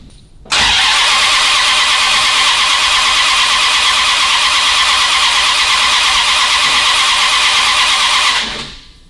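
A 1966 Chrysler engine cranking without catching, a loud, steady starter churn that begins abruptly and runs for about eight seconds before cutting off, close by and without talk.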